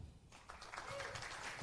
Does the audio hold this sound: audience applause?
yes